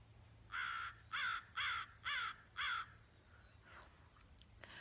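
A crow caws outside five times in a steady rhythm, fairly near and clear, followed by fainter calls over quiet background hiss.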